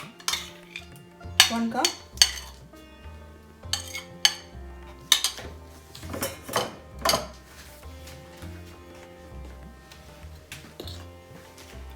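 A spoon clinks and scrapes against a bowl while hung yogurt is added for mango shrikhand, with scattered sharp metallic taps and knocks between quieter stirring, and a brief spoken phrase.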